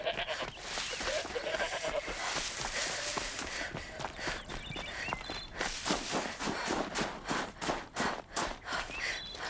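A goat in the video game Horizon Zero Dawn: The Frozen Wilds bleats amid game ambience while footsteps crunch along, the steps growing quicker and more rhythmic toward the end, with no voices.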